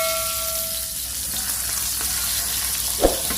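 Salted mackerel frying in a pan for a Thai spiced dish, giving a steady soft sizzle throughout with a brief louder spatter or clink near the end.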